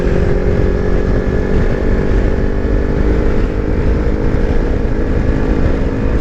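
A Kawasaki Versys X300 motorcycle engine drones loud and constant at high revs in sixth gear on a highway, a steady buzzing roar mixed with wind rush and no pauses.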